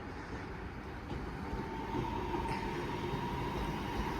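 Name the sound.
Class 323 train departing Wigan North Western station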